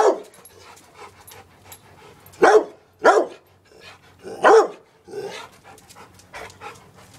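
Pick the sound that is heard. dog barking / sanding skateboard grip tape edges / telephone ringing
dog barking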